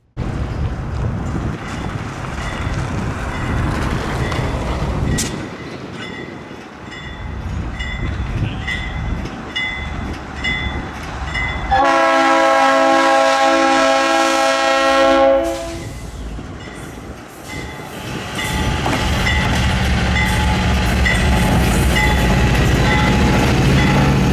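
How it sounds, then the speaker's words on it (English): A small CN diesel locomotive rolls past at a train day event, then sounds a loud sustained multi-tone horn for several seconds over steady rumble and rail clatter. "the tiny CN abomination, which gave a horn salute as it passed"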